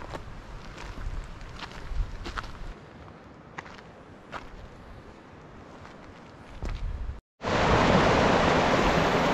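A flowing stream at a water crossing on a San Gorgonio mountain hike, a steady rushing wash with scattered footsteps and rustles, then a brief cut and a much louder, nearer torrent of running water.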